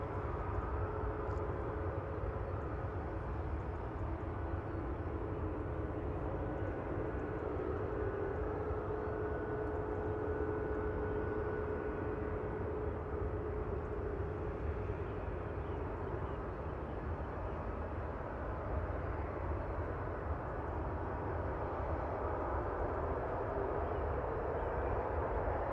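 Distant airliner engines rumbling steadily on a takeoff roll at Manchester Airport, a low continuous roar in the background throughout with no voices.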